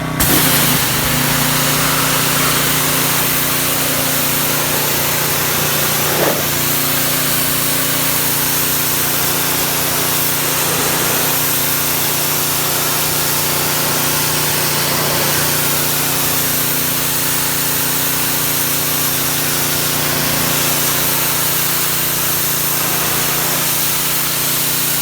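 A Simoniz Platinum 3000 PSI pressure washer blasting outdoor steps stained by black walnuts, a continuous loud engine drone with hissing spray, steady throughout with slight shifts in tone.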